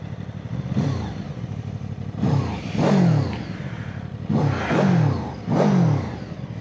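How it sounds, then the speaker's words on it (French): A QJ Motor SRV 600 V4 custom motorcycle's engine runs at a standstill nearby, blipped in four short throttle bursts that rise and fall over a steady low rumble. "On peut écouter le moteur à l'arrêt si tu veux."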